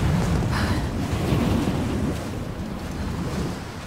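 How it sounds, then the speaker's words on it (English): Strong wind gusts roar steadily across a mountain summit in Rise of the Tomb Raider, a loud continuous rush with no voices. "This wind is crazy!"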